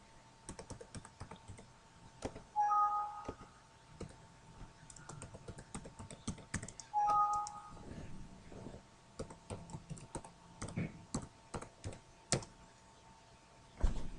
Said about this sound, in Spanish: Digitamos la contraseña, le damos a aceptar.